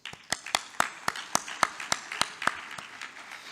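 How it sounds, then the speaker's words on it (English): Sharp, evenly spaced claps at an awards ceremony, about a dozen distinct hits in a steady rhythm, sounding like a few hands clapping rather than a full crowd, fairly close and moderately loud. "I would like to start off with a round of applause for yourself"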